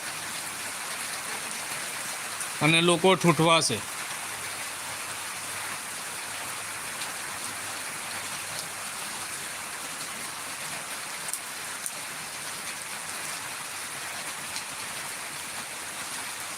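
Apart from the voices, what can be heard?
unseasonal rain falling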